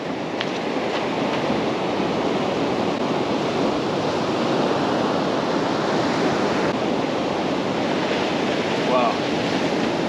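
Ocean surf rolls onto a beach during a beach fishing championship, a continuous broad roar of breaking waves with some wind buffeting the microphone and no voices.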